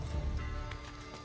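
Horse galloping in Assassin's Creed: Brotherhood, a low thudding run of hoofbeats strongest at the start then easing, heard faintly alongside game ambience.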